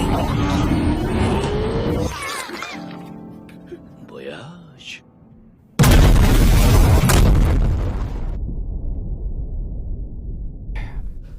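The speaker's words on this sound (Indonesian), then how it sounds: "sang menteri terkejut semuanya sudah tewas. Namun jelas kemana ia pergi, beliau tak akan selamat dari Sato, yang kemudian ia mulai meledakkan pesawatnya" An aircraft blowing up in an anime action scene, a heavy broadband boom bursting in loudly after quieter sounds, then a long rumbling roar that slowly settles into lingering noise.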